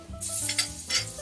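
Steak sizzles in a frying pan with butter and thyme, giving short bursts of crackling spatter as it is moved around, close up and with no talking.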